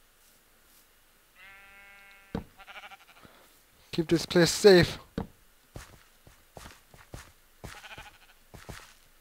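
A blocky survival video game's sheep lets out a quavering bleat near the start. Footstep and block sounds follow, while someone speaks over them in the middle and at the end.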